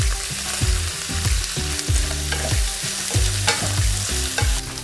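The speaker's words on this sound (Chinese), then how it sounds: "炸过的烤麸下锅" Fried wheat gluten being stir-fried in a wok with wood ear, shiitake, lily buds and peanuts, a constant sizzle with rhythmic scraping and tossing strokes of the spatula, loud and close.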